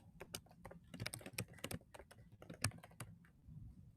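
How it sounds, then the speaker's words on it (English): Keys tapped on a computer keyboard in a steady, slightly irregular burst of light clicks, close and fairly quiet, with no talking. "So let's start typing something."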